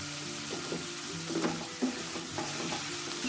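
A vegetable filling seasoned with black pepper is stirred in a pan, with soft scraping strokes over a quiet sizzle and a few louder knocks of the spoon.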